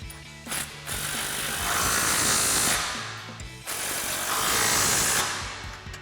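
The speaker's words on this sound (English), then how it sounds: "we're gonna grab our impact 19mm socket and 19mm wrench and tighten them both down" An impact wrench with a 19mm socket tightens suspension bolts on a Toyota Tacoma during a lift kit install, giving two loud, sustained rattling bursts of a few seconds each separated by a brief pause.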